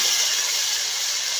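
Fish roe hits hot oil in a wok left from frying fish and sizzles with a loud, steady hiss close by. The hiss holds evenly throughout, and no one talks.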